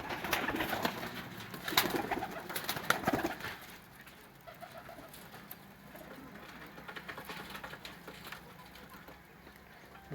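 Sialkoti flying pigeons coo softly at a moderate distance, with low murmuring calls over a steady background hum and a few brief clicks early on.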